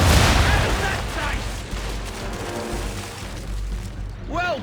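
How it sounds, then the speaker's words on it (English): Ship cannons fire a broadside in the Assassin's Creed 3 video game, a heavy rolling barrage of booms loud up front and fading into a long rumbling tail, with a voice briefly calling out near the end. "Fire broadside!"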